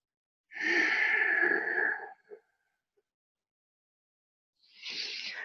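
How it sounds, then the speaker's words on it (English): An audible yoga exhale, a long, breathy, sigh-like release lasting over a second, close and clear, followed by silence and then the start of another breath. "Now let's start to add the audible exhale."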